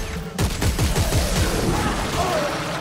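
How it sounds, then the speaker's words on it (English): Gunfire in Dead Space 3, a quick series of loud shots fired in close succession with a harsh, reverberant crack, mixed with game effects. "I'll just shoot you."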